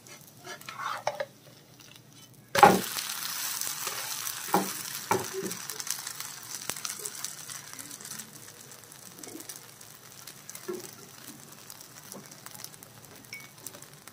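A chicken qeema rice roti fries in oil on a hot griddle, a sudden loud hiss bursting in and settling into a steady crackling sizzle with occasional utensil knocks and faint birdsong.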